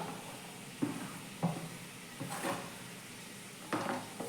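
Quiet, intermittent scrapes and clinks as long-cut potatoes and cluster beans are stirred in a pan, with a few sharper knocks spaced a second or so apart over a soft background sizzle.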